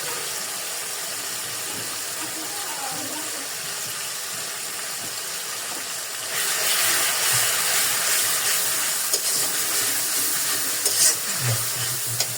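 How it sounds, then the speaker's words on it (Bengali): Malabar spinach seeds fry in a pan with onion paste, giving a continuous sizzling hiss that grows noticeably louder partway through, with a few faint clinks near the end. "আমি এই যে পুঁই শাকের গোটাগুলো সাদা ভাজি করবো।"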